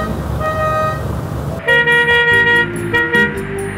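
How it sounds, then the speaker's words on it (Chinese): Horn of a vintage manual-shift car in Havana, Cuba, pressed via a button low beside the steering wheel: a few short, loud toots in quick succession close by, over low engine and street noise. "他们按喇叭我发觉都是蛮客气的，"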